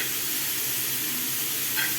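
A continuous, even hiss of mushrooms frying in a flat pan without water, close and fairly loud, with no talking.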